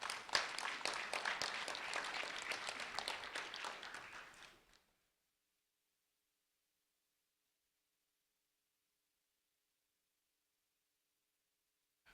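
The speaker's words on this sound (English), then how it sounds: "A round of applause for Brianna," Audience applause for a second grade student from Bonita Springs Elementary School, a steady dense patter of clapping that runs for several seconds and then stops abruptly into silence.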